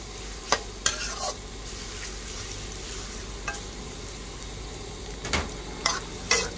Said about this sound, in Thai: ใส่น้ํามันลงไปเจียวกระเทียมเจียวพริกเนาะ